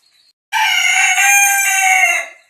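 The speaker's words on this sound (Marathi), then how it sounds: "हा कोंबडा जेमतेम 5 ते 6 वेळा आरवलेला आहे।" A rooster lets out one loud, close crow that holds for well over a second and a half before trailing off, after a brief quiet start.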